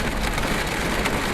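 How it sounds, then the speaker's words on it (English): Heavy, gusting rain hammers on the roof of a van at six in the morning, a loud, dense and continuous roar with no voices. "this is the worst rain I've heard this year."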